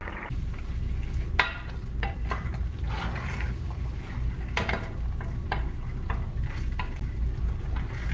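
Orzo at a rapid boil in a pot on the stove, stirred now and then: a steady low bubbling roar with scattered soft scrapes and clinks of the spoon, no talk.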